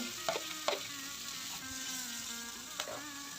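Onion fries separately in hot oil after fish, a soft steady sizzle with a couple of light utensil taps, fairly quiet and close.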